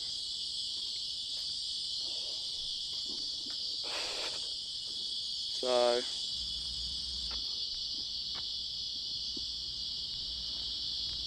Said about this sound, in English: heaps of cicadas out.